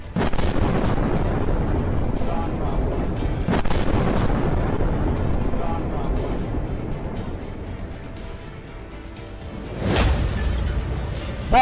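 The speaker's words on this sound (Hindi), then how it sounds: "बहुत तेज बमबारी आज रात कीव पर भारी।" Heavy night bombardment over Kyiv sounds as a dense, continuous low rumble of distant blasts. Several sharper booms stand out, and one loud crack hits near the end.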